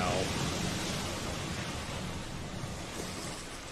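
Ocean waves wash steadily against a shore, a broad continuous roar of surf with wind-like hiss that fades slightly over a few seconds, heard alone.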